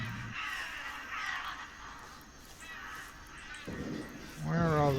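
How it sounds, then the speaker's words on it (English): Crows cawing in the video game Redfall, several harsh calls rising over busy game ambience and growing louder toward the end. "Where are all those crows and what are they doing?"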